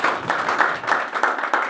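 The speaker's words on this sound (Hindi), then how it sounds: "एक बार सर के लिए जोरदार ताली बजाइए" An audience at a business event in India gives a short round of applause, with many hands clapping in a dense, uneven patter that swells in loose bursts.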